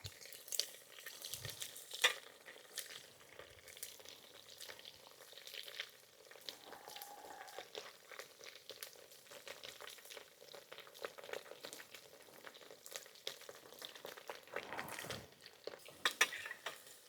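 Small omena fish fry in a pan outdoors, a steady soft sizzle with occasional stirring scrapes and light clinks of utensils, continuous and fairly quiet.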